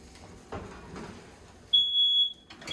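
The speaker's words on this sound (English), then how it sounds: "Fire alarm went off, fantastic." A smoke alarm sounds in a kitchen while hasselback chicken cooks, a single loud, piercing high tone lasting under a second after some quiet handling noises.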